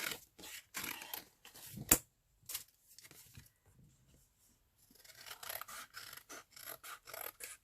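Scissors snipping and rasping through tissue paper for a collage, a run of short close cuts, a pause with faint rustling, then another rapid series of crisp snips.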